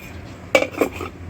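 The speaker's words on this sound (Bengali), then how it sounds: "একটা প্লেট দিয়ে আমি ঢেকে রাখলাম।" A plate is set over a pan as a lid, making a brief close ceramic-and-metal clatter of two or three quick clinks in an otherwise quiet kitchen.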